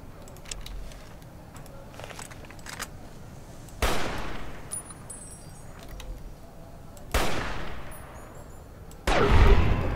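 Gunfire in Fallout: New Vegas aimed at a giant rat comes as three loud, sharp shots spaced a few seconds apart. Each shot leaves a lingering decay over low in-game background noise.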